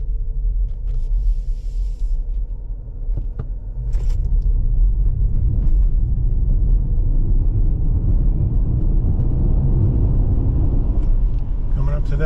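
A 2023 Ford Mustang Mach-E Select AWD electric car plays its simulated engine sound while driving, giving a steady low rumble that swells after a few seconds, with people talking over it inside the cabin.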